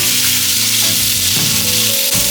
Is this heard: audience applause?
no